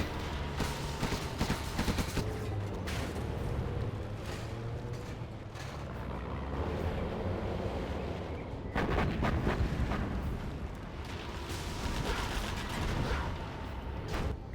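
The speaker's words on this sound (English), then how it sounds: "Okay, artillery now from Anti-Pro." Artillery fire in a real-time strategy match, a dense rolling barrage of booms and rapid blasts that continues steadily and swells again later.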